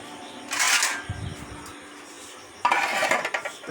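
A metal lid set onto a pot of roasted-coconut curry in a home kitchen, giving two bright clattering bursts of metal contact with a short low knock between them, close and fairly loud, with no talking.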